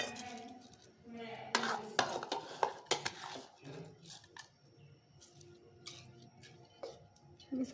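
A spoon scrapes and clinks against a pot as rice is mixed with soft boiled potatoes, irregular close knocks and scraping strokes with quieter pauses between them.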